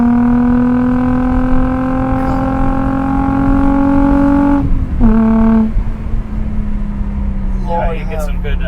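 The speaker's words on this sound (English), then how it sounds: "Yeah, you get some good exhaust." Car fitted with a Z1 Touring cat-back exhaust cruising, a loud, steady droning engine hum that dips and resettles midway as the revs shift, with a faint squeal near the end.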